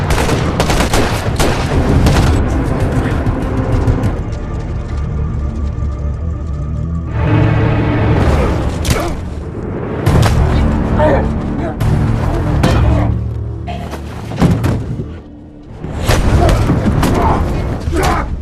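Loud bursts of gunfire in a movie gunfight from Reacher, dense rapid shots and booms in several waves with brief lulls, mixed with shouting voices and music.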